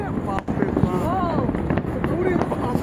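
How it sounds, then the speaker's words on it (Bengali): New Year's night fireworks over Hatirjheel lake, scattered pops and crackles at a distance beneath a busy crowd, with whistling rockets and people talking nearby. "কত সুন্দর সুন্দর আতশবাজি ফুটতেছে।"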